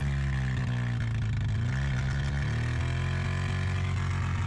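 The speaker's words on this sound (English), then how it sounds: "The engine sound is a nice growl." A close car engine growls with a deep, throaty hum, its pitch climbing a little as the revs rise, while the car slips on summer tires in a snowy, slushy field.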